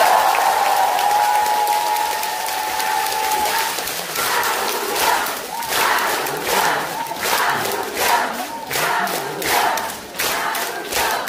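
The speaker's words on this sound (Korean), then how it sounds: "박수 한번 더 주세요." A crowd at a political rally bursts into sustained applause, dense rhythmic clapping swelling after a brief shouted cheer, loud and close with only faint voices beneath.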